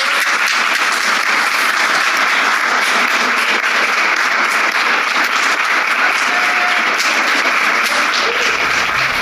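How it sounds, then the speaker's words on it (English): Delegates at the COP28 climate conference applauding, a dense, sustained, loud wash of clapping from a large crowd that runs steadily from start to end. "delegates simply applaud when a member from a country getting consumed by a rising ocean cries"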